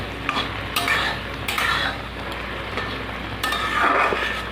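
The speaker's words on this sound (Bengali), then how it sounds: "নাড়তে নাড়তে জলটা শুকিয়ে গেল" Ridge gourd curry is stirred in a pan as its water cooks off, giving repeated scraping strokes of a spoon against the metal over a soft, steady sizzle, close and with no talk.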